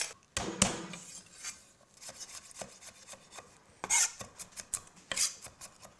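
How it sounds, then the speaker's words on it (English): Garlic cloves being crushed and finely chopped with a knife on a board, with faint scraping, rubbing and scattered sharp taps, quiet and close with no talking. "Let's just take the garlic cloves and lightly crush them and then chop finely."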